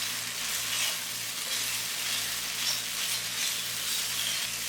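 Two cups of boiled rice going into a hot frying pan for shrimp fried rice, a loud, steady sizzle with stirring scrapes running continuously and no voices.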